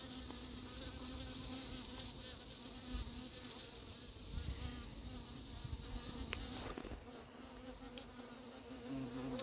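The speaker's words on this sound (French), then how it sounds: "j'ai le faux bourdon qui est là, qui traîne" Close, steady insect buzzing from a drone honeybee hovering nearby at an apiary, a continuous low drone that wavers slightly in loudness.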